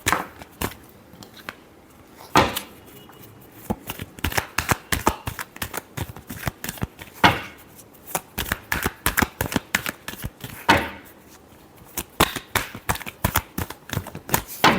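Tarot cards being shuffled by hand during a love reading, a long run of quick papery riffles and flicks, with a few louder bursts and steady crisp rhythm throughout, close and alone.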